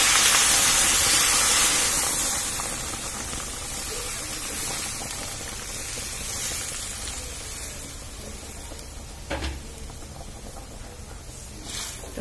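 Hot water poured into frying fish curry sets off a loud hissing rush that gradually dies down to a softer simmering sizzle, with a couple of faint clinks near the end.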